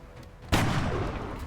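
A soldier fires a gun in XCOM: Enemy Unknown: after a quiet moment comes one sudden loud shot, followed by a rumbling tail of gunfire noise.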